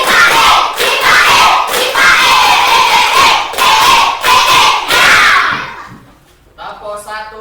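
A school class playing the tepuk jipae clapping game, a group of children chanting loudly in unison with rhythmic claps in bursts, then a brief pause and a lone voice speaking.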